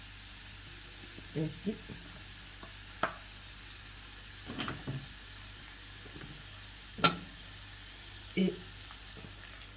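Beans with onions and red pepper powder being stirred in a pot, with a faint background sizzle and several separate clinks and scrapes of a spoon, plus brief speech.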